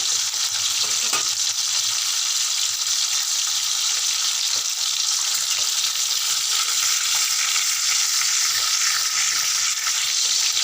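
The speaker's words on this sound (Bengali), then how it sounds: "দেখো মাছগুলো ভাজা করছি, তেলটা গরম হতে মাছগুলো দিয়ে দিচ্ছি।" Parshe fish fry in hot oil in a pan for a Bengali tel jhal, giving a loud, steady, unbroken sizzle that runs from start to finish with no talking.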